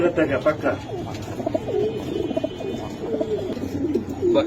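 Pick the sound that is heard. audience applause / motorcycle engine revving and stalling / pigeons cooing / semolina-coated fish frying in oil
pigeons cooing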